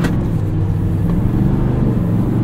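A 2024 Chevrolet Silverado 2500HD ZR2 with a Duramax diesel, towing, under full throttle, gives a loud, steady low engine roar from inside the cab, with no talk.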